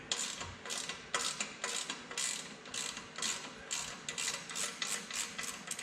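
A ratchet wrench works a 17mm bolt loose from the kickstand of a Hodaka Combat Wombat motorcycle under restoration, giving close, repeated bursts of rapid clicking with short pauses between strokes.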